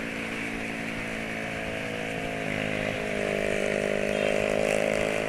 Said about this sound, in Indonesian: Motor knalpot racing